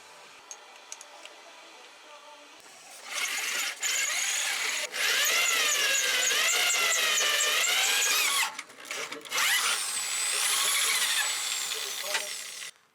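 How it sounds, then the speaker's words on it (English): A sharp bit in a power drill bores a bolt hole while rock sliders are fitted to a Toyota Tundra, giving a loud, steady whine with wavering pitch that runs for several seconds, pauses briefly, then resumes. "With the hole drilled, I'm ready to put the last bolt in."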